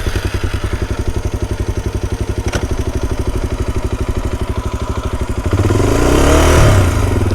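A motorcycle engine, likely a Suzuki DRZ250 dirt bike, idles with a steady thumping beat, then clatters and revs up loudly as it pulls away in first gear, close to the microphone.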